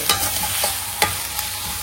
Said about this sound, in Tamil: மொத்த எண்ணெயும் வெளியே தெரிஞ்சுட்டு அப்படி தெரிக்கும்